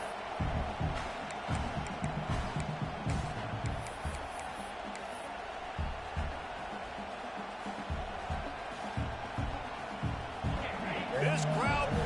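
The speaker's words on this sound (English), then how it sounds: "This crowd bringing the energy and noise early." A stadium crowd roars in the College Football 26 video game, a broad steady murmur of cheering with scattered thumps and shouts, running beneath continuous play-by-play commentary.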